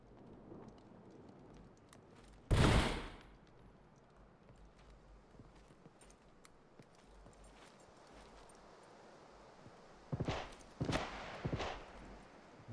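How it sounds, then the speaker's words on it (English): Gunshots ring out in the survival shooter SCUM, a single loud report early on followed later by a quick cluster of three or four sharp shots, heard somewhat distant over a low ambient background. "More shots being heard. Feudal firing on somebody."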